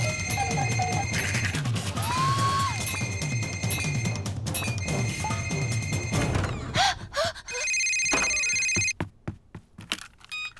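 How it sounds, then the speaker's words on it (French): A mobile phone rings loudly and repeatedly in a home comedy scene, with a bright electronic ringtone pattern and some noises in the room after it. "On dirait mon téléphone."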